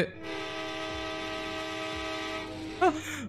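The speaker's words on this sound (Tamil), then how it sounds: "முதல்ல ஹான் அடிக்கிறோம் ட்ராக்ல யாரும் நிக்க வேண்டாம் ட்ரெயின் வந்துட்டு இருக்குது" A long, loud sustained train horn blares steadily for a few seconds in the game Indian Bike Driving 3D, with a short electronic chirp near the end and no speech.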